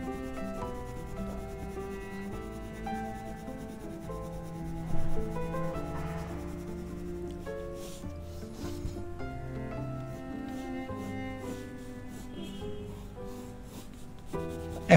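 Pencil shading is rubbed and blended on paper in soft, repeated scratchy strokes, quiet and close, under steady background music with sustained tones.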